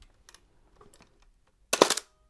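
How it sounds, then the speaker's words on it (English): A Kowa Six medium-format camera makes a few faint mechanical clicks, followed by one louder, close, rattling burst of the shutter mechanism firing. "Yeah, that shutter's firing again."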